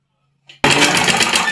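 A sewing machine stitches a shirt collar stand, starting abruptly after a faint click and running loud and steady at close range with a fast, even needle rhythm.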